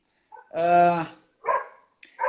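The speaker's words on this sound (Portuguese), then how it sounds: "olha meus cachorros gritando aí" Dogs barking and yelping at home, one long sustained howl-like bark followed by two shorter bursts, fairly close and loud, with no talk over them.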